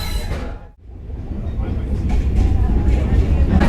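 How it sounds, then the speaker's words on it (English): A train pulls away from the station on the way from Elgin, with a steady rumble and clatter that grows louder and denser after a brief dip, heard from on board. "The train has left the station and we're on our way."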